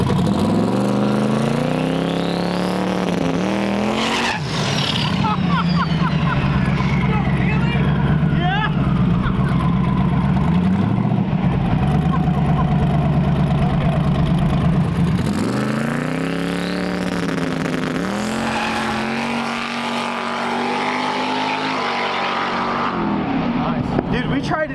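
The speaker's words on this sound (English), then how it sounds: "we tried to do a second burnout and it did a wheelie" A boosted drag car with its engine revving hard through a burnout on a back track during testing, loud sustained roaring with rising and falling pitch sweeps, cutting out around the middle, then climbing again.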